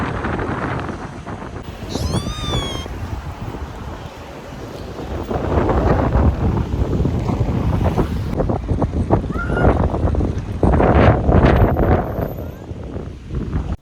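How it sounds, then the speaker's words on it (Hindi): Strong wind roars across the microphone on a Hawaiian beach while waves crash and wash continuously, loud and close, with a brief high chirp partway through. "बहुत तेज़ हवा चल रही थी"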